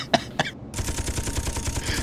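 Rapid turret gunfire from a bottom turret in a multiplayer airship battle video game, a steady rattling burst of close, loud shots after two short sharp sounds at the start.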